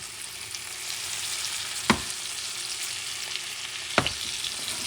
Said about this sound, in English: I'm going to cook that side for about 5 minutes